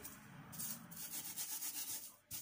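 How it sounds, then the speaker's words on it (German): Ripe grain ears rubbed between the hands to thresh a small amount at home, a dry, rhythmic scratching rasp repeating close and quiet, no talk. "Also zu Hause bei einer kleinen Menge kann man einfach reiben."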